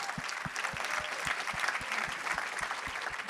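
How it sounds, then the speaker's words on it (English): A criminal justice summit audience applauds in a brisk, continuous patter of many hands, fairly loud and even, with a few distinct low thumps recurring at regular intervals throughout. "A round of applause for Jessica Jackson."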